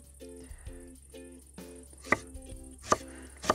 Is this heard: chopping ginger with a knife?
yes